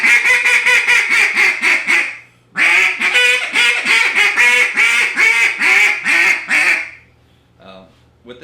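A reed duck call blown in rapid, loud, nasal quacking runs, two long bursts of repeated quacks separated by a brief pause, close to the microphone.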